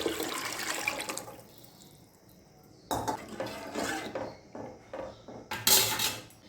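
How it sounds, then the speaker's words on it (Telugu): Tamarind juice poured into a pan of frying fish for a Telugu-style bommidayila fish curry, a splashing liquid pour in several uneven bursts with brief pauses, close and fairly loud, with no talking. "ఇప్పుడు చింతపండు పులుసు పోసుకోవాలి. చింతపండు పులుసు పోస్తున్నాను."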